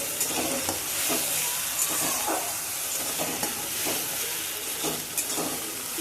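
Spice paste of onion, ginger and garlic frying in hot oil on a low gas flame, giving a steady close sizzle with repeated scraping stirs and faint hissing steam throughout.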